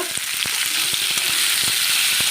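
Potato pieces fry with urad dal in a pan, giving a steady sizzle with quick, repeated scrapes and taps of stirring close by.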